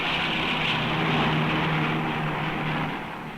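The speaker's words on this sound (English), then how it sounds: "The Savage has a single jet engine installed in the fuselage to boost its speed for bombing runs and other combat requirements." A North American AJ Savage carrier-based bomber, propeller-driven with an added jet engine in the fuselage, roars steadily and loudly overhead, the drone fading slightly at the end.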